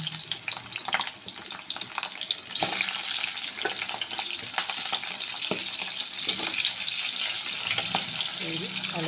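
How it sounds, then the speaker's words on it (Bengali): Potatoes frying in hot oil in a wok for a vegetarian dish: a loud, continuous, hissing sizzle, close up, with a sharper surge as they hit the oil and faint crackles throughout, no talking. "এবার আমি আলুগুলো দিয়ে দিলাম।"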